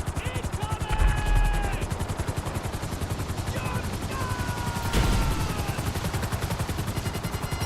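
Helicopter in GTA 5 Online during the Titan Job finale, its rotor chopping in a fast, steady rhythm throughout, with whistling engine tones and gunfire-like bursts layered over it.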